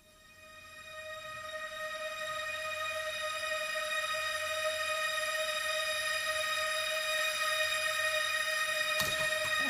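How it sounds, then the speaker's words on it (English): Omnisphere synth patch called Archaic Chasm: a steady sustained tonal drone that swells in gently from quiet and then holds evenly, with a faint brief noise burst near the end and no voices. "again, another patch from Omnisphere"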